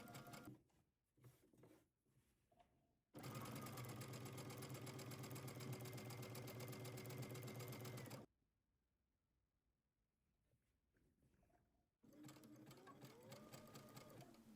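Sewing machine stitching an elastic casing around a dress bodice, a steady close mechanical hum in long runs with a short stop and restart, alone without talk.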